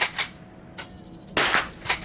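Semi-automatic gunfire at a shooting range, several sharp loud cracks spaced unevenly with echoing tails, no talking.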